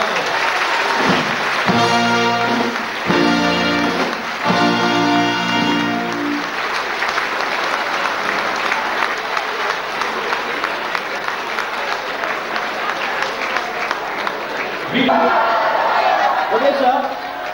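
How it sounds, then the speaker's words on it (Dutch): Audience applause for a dancer at a carnival prince presentation event in Dreumel, steady clapping from a crowd that follows an amplified voice and music at the start, with chatter mixed in. "Breumse vrijwilligers en applaus voor de Julio Dansstrijder."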